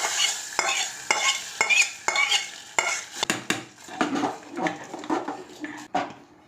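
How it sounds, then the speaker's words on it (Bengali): A tempering of dried red chilli and cumin in oil is poured into winter-vegetable khichuri and stirred, with a hissing sizzle under repeated rhythmic scrapes of a spoon against the pot, close and fairly loud. "এবার খিচুড়ির মধ্যে ঢেলে দিলাম।"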